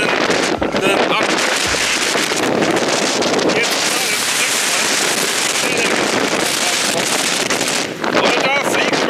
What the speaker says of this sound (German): Also es ist richtig hardcore windig, man muss jetzt noch weiter. Das ist stürmisch.